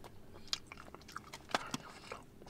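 Someone bites into chocolate with nuts, giving a few sharp crisp crunches followed by quieter chewing, close to the mouth, with no talk.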